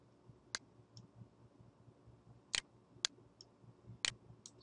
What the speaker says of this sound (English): We're going to double click to open up that tool.